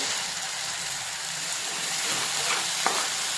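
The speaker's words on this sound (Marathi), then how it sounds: "मी एक टमाटर मिक्सरमध्ये ग्राइंड करून घेतलेला आहे त्याची प्युरी घालत आहे" Tomato puree fries in oil for paneer makhana sabji, a continuous rain-like hiss of sizzling with a couple of faint spatters near the end.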